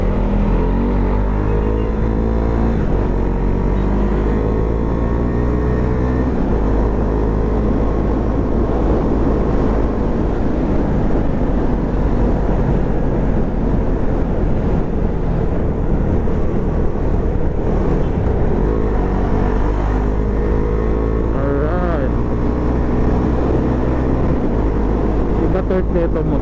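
Husqvarna Svartpilen 401 motorcycle ridden on an expressway exit, its engine droning steadily and loudly throughout with shifting pitch as it accelerates and slows, wind rushing alongside and faint speech at moments.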